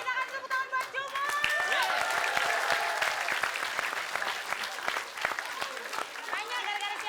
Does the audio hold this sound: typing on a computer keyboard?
no